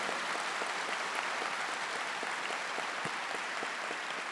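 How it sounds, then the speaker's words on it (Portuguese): A church congregation claps together during a Catholic priest's talk on inner healing; the applause is steady and moderately distant, with individual sharp claps standing out from the crowd. "Vamos aplaudir com força,"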